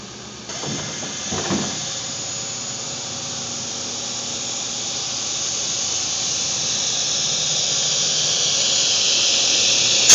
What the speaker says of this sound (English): I'm going to want to make a zeroing cut on that, so I'm going to have to start the saws.